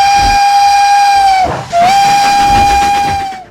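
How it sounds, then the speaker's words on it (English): Small brass steam whistle mounted on the front of the cab of the locomotive Elmira, loud and close: a long steady shriek that briefly dips and breaks, then resumes and sustains before tailing off, with steam hiss underneath. "She is equipped with a small brass whistle on the front of her cab."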